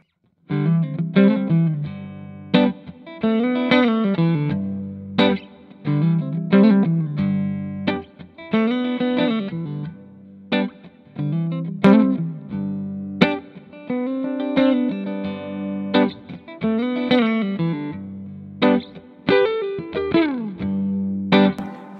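Electric guitar plays distorted chords and riffs through an amplified effects chain, with bursts of strummed notes separated by short pauses.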